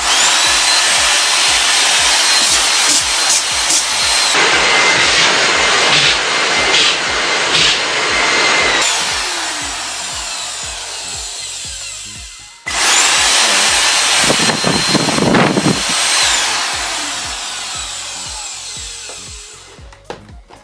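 A vacuum cleaner with a repaired cable runs with a loud, steady motor whine and harsh broadband roar, briefly cutting out and restarting midway before fading toward the end.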